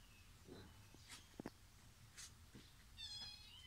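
A cat, apparently a neighbour's that wandered over in a village setting, gives a few short meows amid faint household background noise.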